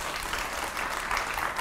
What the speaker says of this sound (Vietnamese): Hỏi cho một tràng pháo tay để khích lệ đi